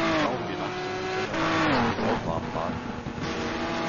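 A Ferrari GT race car in a racing simulator game, its engine whining in rising and shifting tones while tyres squeal, kept at a moderate level under steady talk.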